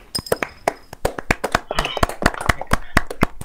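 Applause during a council election roleplay in Farming Simulator 19, with many sharp, dense claps and taps rising into a steady burst of clapping that runs throughout.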